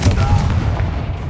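A Confringo fire spell bursts as an explosion in the Hogwarts Legacy video game, one loud close boom with a low rumbling body that quickly fades.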